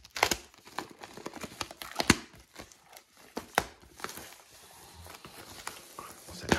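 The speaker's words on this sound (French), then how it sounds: "On va procéder au déballage." Packaging from a set of four Hans Zimmer live vinyl records being unboxed, with close crinkling plastic and paper, sharp tearing snaps and scattered rustles in an irregular rhythm.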